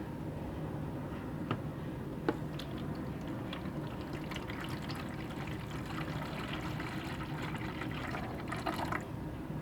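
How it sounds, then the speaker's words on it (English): Liquid gold-extraction solution is poured off from a beaker in a steady trickling, splashing stream lasting several seconds, with occasional sharper drips and clinks, fairly close and with no talking. "So I'm only going to pour off about that much."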